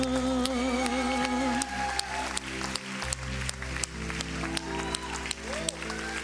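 An audience claps at a Hindi television show, steady applause mixed with music and a continuous background hum.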